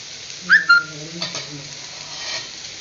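Soft sizzling of okra sautéing in a pan, with a few brief bright squeaks and scrapes of stirring, close and fairly quiet.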